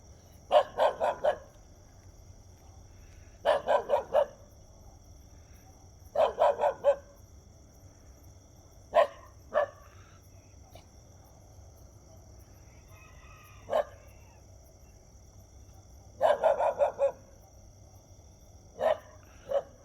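Dogs bark in repeated bursts of three to five sharp barks, separated by pauses of a few seconds, moderately close against a quiet background with a faint steady high whine; no one speaks.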